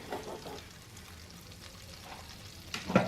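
Mushrooms fry in melted butter in a pan with a soft, steady sizzle, and occasional stirring and scraping rises to a louder clatter near the end.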